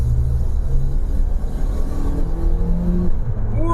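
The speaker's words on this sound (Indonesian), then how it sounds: "Terus kita akan buka throttle-nya tiba-tiba." Automatic car with the transmission in fourth gear, throttle floored suddenly for a kickdown; steady engine drone and road rumble with harmonic lines shifting and climbing as revs change, continuous and fairly loud throughout.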